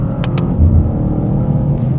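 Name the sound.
BMW G87 M2 with Stage 1 ECU tune driving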